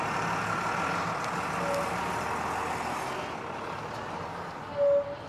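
A last scheduled bus service idles and rumbles nearby with a steady low engine drone, broken by a brief hiss of air brakes near the end.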